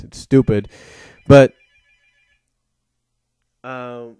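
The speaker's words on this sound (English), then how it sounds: "That's the phone. I don't know why it goes off when I do these things." A telephone rings in the background, a brief harmonic ring near the end following a gap after someone speaks.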